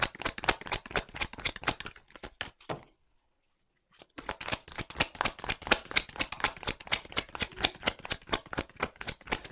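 Tarot cards are shuffled in rapid, crisp riffling bursts, close and clear. The shuffling stops briefly for about a second, then resumes in a long, even run.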